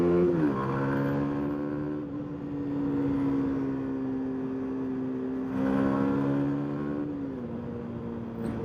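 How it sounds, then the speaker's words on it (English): A Rieju RS3 125 motorcycle engine held high in the rev range while overtaking, a steady harmonic drone that eases off and climbs again twice, loud and close with wind rush and no talking. "Let's try and overtake this person and see what it sounds like further up in the rev range."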